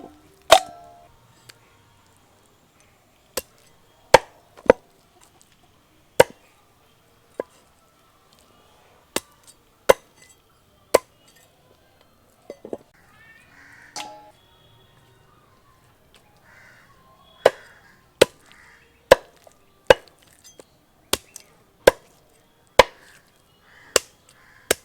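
A knife chops chicken breast meat on a cutting surface, sharp isolated thwacks at irregular intervals, some in quick clusters, with quiet handling sounds between them and no talk.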